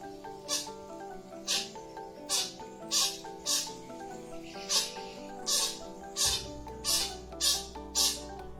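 A Visayan tarictic hornbill on Negros gives a rhythmic series of about ten sharp, nasal calls, evenly spaced under a second apart and fairly close. A low hum enters partway through.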